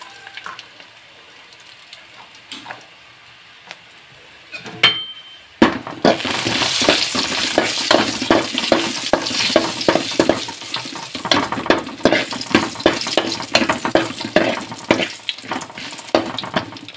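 Garlic and chili pieces frying in coconut oil for a tempering: quiet at first, then a loud, dense crackling sizzle bursts in abruptly and carries on steadily with sharp pops to the end.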